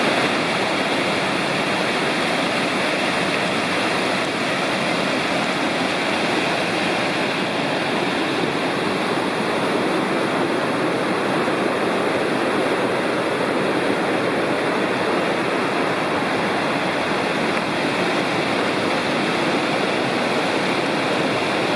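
Citico Creek in the Cherokee National Forest rushes beneath a bridge, a loud, steady broadband roar of flowing water that continues unbroken throughout, with no voices.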